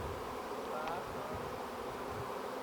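Honeybees buzz around a beehive box, a steady close hum of many insects filling the whole span at moderate level.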